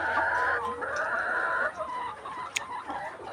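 A layer hen on a poultry farm clucks in a continuous run of close, fairly loud calls, with no voices.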